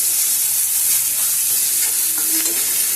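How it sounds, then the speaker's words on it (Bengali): Onions fry in oil with spices for a Bihari-style duck egg curry, stirred continuously so a loud, dense sizzle hisses close by with soft scraping underneath and no voices. "পেঁয়াজগুলো দিয়ে ভালো করে আমি তেলের সাথে ভালো করে মশলার সাথে ভালো করে মিশিয়ে নেব।"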